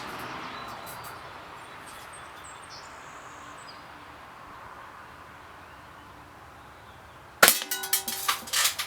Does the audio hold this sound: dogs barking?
no